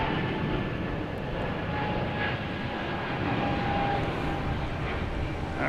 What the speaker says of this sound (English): Nice, smooth landing.